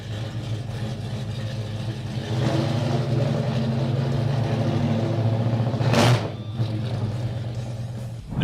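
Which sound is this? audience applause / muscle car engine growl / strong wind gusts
muscle car engine growl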